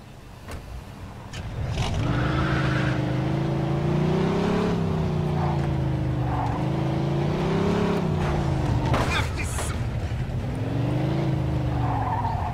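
A car in the video game Mafia 2 starting up and driving hard, the engine revving up and down in long sustained sweeps with tire squeal and skidding, loud and close, no talking.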